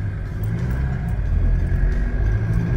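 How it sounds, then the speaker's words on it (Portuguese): A Chevrolet S10 pickup in 4x2 climbs a steep, rough hill, its engine a steady, loud low rumble that holds strong and even throughout, with no talk over it. "Olha lá, a caminhonete vai indo."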